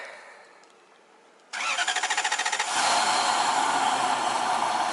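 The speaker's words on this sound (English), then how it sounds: "All right, start her up." A car engine cranks with a rapid chugging starter, then catches and roars into a loud, steady idle.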